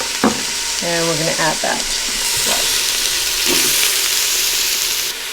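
Chopped onion sizzles and fries in an Instant Pot while making Hong Kong borscht soup, a steady crackling hiss running throughout with a few clinks and stirring sounds, and a short spoken line near the start.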